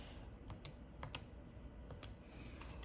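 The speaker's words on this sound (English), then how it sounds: "if you hear me clicking, it's just because I'm putting it in my calculator." Faint, crisp plastic calculator button presses, a handful of separate clicks spaced irregularly over a quiet room hum.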